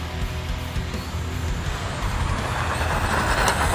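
An LC Racing EMB-T RC truggy run on light throttle, giving a steady close whirring drive noise with broadband rolling texture that builds slightly toward the end, with no talk.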